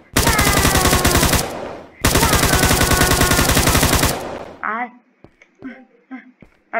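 Rapid automatic gunfire from a Minecraft guns mod plays as two long, loud sustained bursts of video game shots, followed by a few short sounds and someone speaking.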